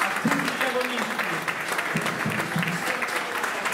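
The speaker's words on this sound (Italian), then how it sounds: "un applauso a tutti gli agonisti" Applause from the crowd at an Italian club spearfishing championship prize ceremony, steady clapping throughout with voices mixed in underneath.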